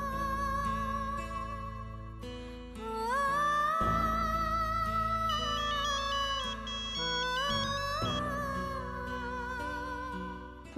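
A mobile phone ringtone plays a bright synthesized melody with shifting tones, clear and continuous for about eleven seconds with no voices.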